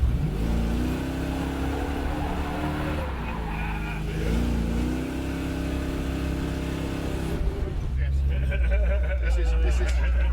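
A roughly 6,000-pound Black Beauty car with a huge engine rumbles and revs during a ride, a steady low throb rising in pitch and then dropping away, with people talking over it.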